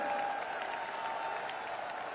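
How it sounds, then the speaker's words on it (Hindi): Rally crowd applauding in Rajasthan for Prime Minister Modi, a steady, dense wash of clapping that holds at even loudness throughout, with a faint tonal hum running beneath it. "जोरदार ताली बजाकर आदरणीय प्रधानमंत्री जी का वंदन करें, अभिनंदन करें।"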